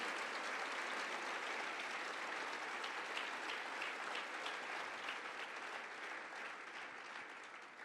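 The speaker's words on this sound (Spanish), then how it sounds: "Denle un fuerte aplauso al Señor" A church congregation applauds loudly and steadily, dense clapping filling the space for the whole stretch without any talk.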